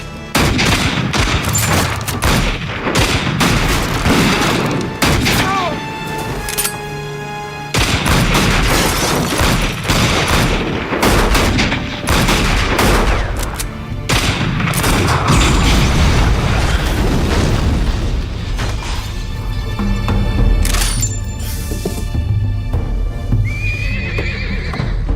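Movie shootout with bursts of gunfire amid horses neighing and hooves clip-clopping, loud and dense throughout, with short breaks between volleys.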